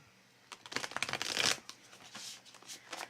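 A deck of The Muse Tarot cards is shuffled by hand in a quiet room, giving a soft flurry of riffling and slapping card sounds that swells, then fades into a few lighter flicks.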